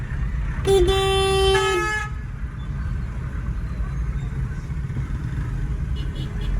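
Heavy traffic in Karachi, where a loud, held car horn blares for about a second over a dense street rumble of engines, followed by the ongoing low traffic noise and faint distant honks.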